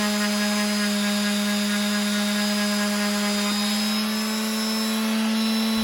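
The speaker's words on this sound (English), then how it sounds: "I'm going to use the palm sander with a coarse grit to take that off" A palm sander with coarse grit runs on wood, giving a steady loud electric whine with a high buzzing hum that holds constant and close throughout.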